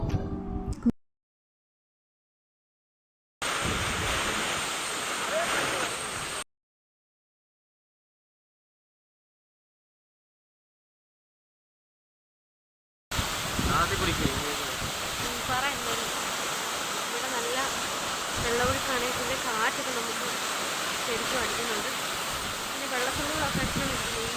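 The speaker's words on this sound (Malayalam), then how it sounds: "താഴോട്ട് പതിക്കുന്ന വെള്ളം കുറച്ച് ശക്തിയിലാണ് ഒഴുകി ഒഴുകി പോകുന്നത്" Aruvikkuzhi waterfall in a forest setting roars as a steady, dense rush of falling water, heard loud and close in separate stretches broken by silent gaps.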